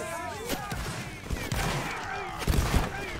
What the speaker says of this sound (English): Okay, start firing at will.